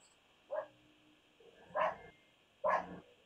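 A dog barks three times, spaced about a second apart, moderately near against a quiet background.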